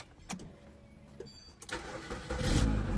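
A Samsung Korean car engine, newly fitted with a replacement fuel pump, cranks with a few clicks and catches, rising into a louder running idle over about three seconds, alone without talk.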